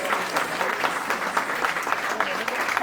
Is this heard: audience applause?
yes